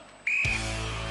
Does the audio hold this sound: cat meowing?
no